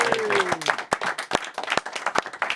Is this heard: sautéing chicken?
no